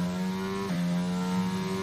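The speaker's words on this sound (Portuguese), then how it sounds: "Somzinho do motor Mercedes." Steady harmonic whine of a Mercedes Formula 1 engine in the F1 22 racing game at Silverstone, holding a sustained high tone with a brief pitch dip as it shifts, then settling back, loud and close with no talk.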